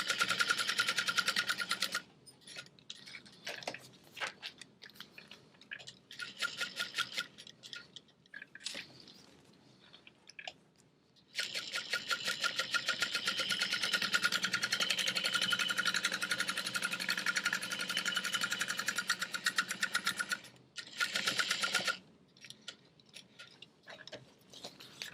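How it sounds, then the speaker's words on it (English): Sewing machine stitching around the edge of a clear raw-edged vinyl bag, rapid mechanical needle chatter in several bursts of different lengths, separated by brief pauses and quiet handling, close and loud. "I am finishing off sewing the end because this is a raw edged bag, so I'm sewing the entire square"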